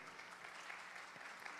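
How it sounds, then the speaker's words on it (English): An audience at a prize presentation applauds volunteers, a steady wash of many hands clapping at once, heard from a little distance and fairly quiet, with no talk over it. "Please give them applause to all the volunteers here."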